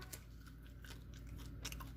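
Close, crisp crunching bites into a crusty Mediterranean artisan bread roll filled with meat and olives, with a few sharp crackles spread over two seconds and no talking.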